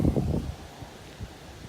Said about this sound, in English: As you can see, it's really windy.